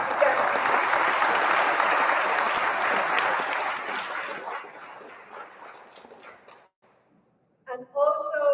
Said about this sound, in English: So big round of applause again.